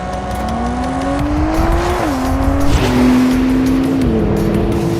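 A McLaren 765LT and a Porsche 911 Turbo S run a quarter-mile drag race at Castle Combe track; a loud engine note climbs steadily, dips sharply at gear changes, then climbs again, close and continuous.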